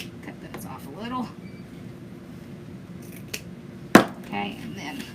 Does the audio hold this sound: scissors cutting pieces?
yes